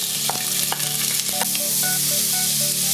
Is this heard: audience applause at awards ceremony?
no